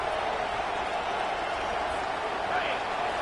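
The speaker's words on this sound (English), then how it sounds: "Decibels rising as the crowd gets behind this defense on 3rd down." A stadium crowd in a college football video game roars steadily behind the defense on third down, a dense, unbroken wall of cheering noise at even loudness throughout.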